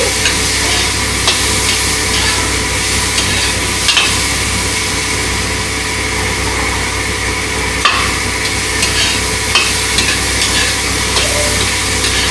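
Fish frying in a pan with ginger, being stirred, a steady close sizzle with scraping strokes of the utensil and occasional knocks against the pan, with no talking.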